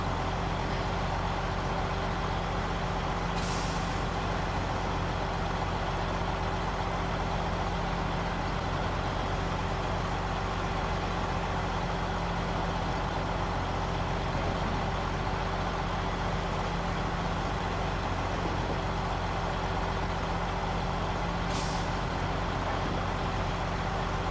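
A heavy truck engine labours steadily uphill in high gear in SnowRunner on hard mode, a continuous low droning rumble that holds even and unbroken throughout with no talk.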